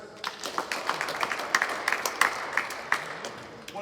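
Players in a basketball coaching class on a court clap for the drill winners, giving a scattered but steady round of close, sharp hand claps with a few louder individual claps standing out.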